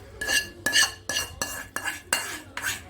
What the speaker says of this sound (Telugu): ఇప్పుడు ఈ ఆయిల్ ఇందులో కలిపేసుకుందాం